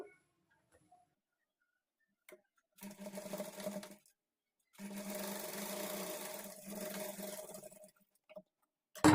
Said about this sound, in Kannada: ಎರಡೂ ಕಡೆನೂ ಇದೇ ಥರ ಡಾಟ್ಸನ್ನು ಸ್ಟಿಚ್ ಮಾಡಿಕೊಳ್ಬೇಕು